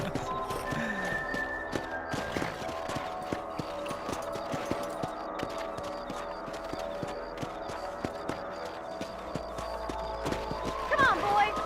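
In the Red Dead Redemption video game, horse hooves clip-clop in a steady rhythm along with a brief whinny, while game dialogue and a player's voice talk over them throughout.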